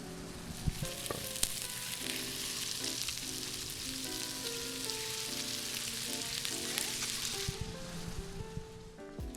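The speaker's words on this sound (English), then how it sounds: "We want to hear that nice sizzle." Steady, loud sizzling of salmon frying in hot oil in a pan, a dense crackling hiss throughout with occasional sharper pops.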